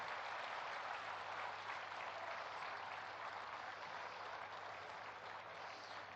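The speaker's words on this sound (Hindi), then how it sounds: "एक दूसरे के उत्साह वर्धन में तालियों की गड़गड़ाहट कर रहे हैं" Sustained applause from a large audience at a public ceremony marking Good Governance Day and a paddy bonus distribution, a dense, steady clapping roar that stays loud throughout with no talk.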